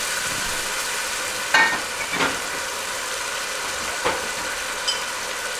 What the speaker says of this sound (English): We're just gonna deglaze and kind of cool things down and get a little wine flavor in there.